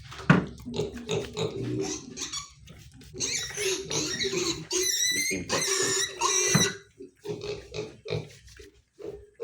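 Pigs eat their lunch close by, grunting, oinking and squealing in busy bursts, with chomping and trough noises in between.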